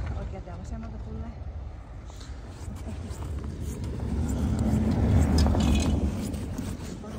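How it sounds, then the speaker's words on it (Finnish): Cars pass on a road with traffic coming from both left and right, making a broad tyre-and-engine rush that swells as one vehicle draws near and then eases off, while voices talk over it. "vielä tulee oikealta ja vasemmalta autoa"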